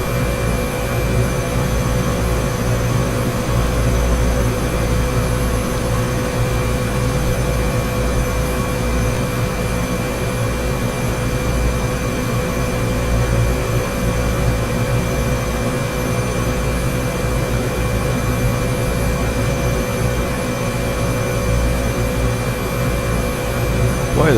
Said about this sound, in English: this helicopter's just nothing like the Huey. This thing is all automated, kind of effortless.